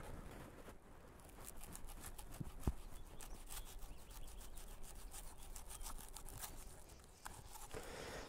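A Case Trapper stainless steel pocket knife cuts through 3/4 inch polypropylene rope, making a continuous rough, rasping sawing scrape with rhythmic strokes, close and steady, with a sharp snap partway through.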